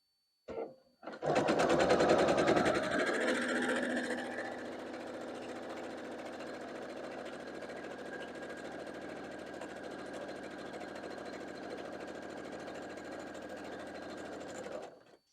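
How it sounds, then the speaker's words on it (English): A sewing machine stitches half-square-triangle quilt pieces, starting loudly with a fast rattling whir, then settling into a steady, even hum of needle strokes that runs for over ten seconds before stopping. "Now I'm just going to turn it around and sew along the other side."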